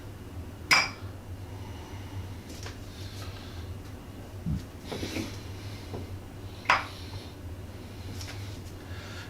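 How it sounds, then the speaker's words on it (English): A knife cuts a pizza into small slices, giving a few sparse, sharp clinks of the blade against the plate spread across a quiet room with a steady low hum. "Chop it up into little slices the rest of the way."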